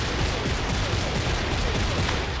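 Gunfire from Gears of War 2 with rapid fire turned off: a dense, continuous wall of shots and explosive crackle, loud and steady throughout, with no voice over it.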